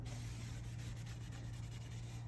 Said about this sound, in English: Clean your surfaces right down. Give it a good clean.